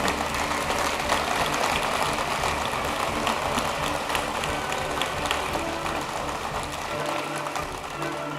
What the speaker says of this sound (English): Congratulations to all our master's graduates. Round of applause.